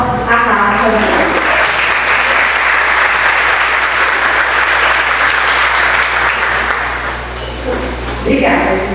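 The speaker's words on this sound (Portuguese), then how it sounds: "vamos acolher em palmas a Rafa" An audience at an annual education meeting applauding to welcome a speaker, dense sustained clapping filling the room for several seconds before fading, with a voice at the end.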